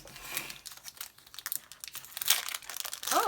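A Pokémon card pack being torn open, with sharp close crinkling foil and quick ripping bursts, loud and irregular, with no talking.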